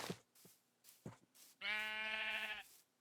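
Sheep bleat in an automated sheep farm in a modded Minecraft game, with a few short clicks followed by one long, loud, close bleat standing alone.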